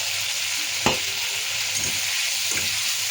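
Boiled potatoes drop into a spice masala frying in a pan, giving a steady close sizzle with a few sharp scrapes of stirring; no one speaks.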